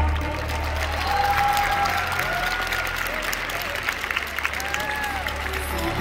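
Applause and cheering from a crowd at a WDSF World Championship junior Latin dance final for a competing couple, sustained clapping with scattered whistles and voices, while an announcer speaks over it.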